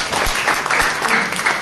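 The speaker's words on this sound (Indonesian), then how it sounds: "Berikan tepuk tangan baginya." A church congregation claps and applauds steadily, a dense wash of hand claps filling the whole moment without any talking.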